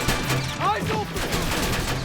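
Gunfire in the video game Terminator Resistance, a continuous crackle of shots and impacts under a steady battle din, with game voices speaking over it.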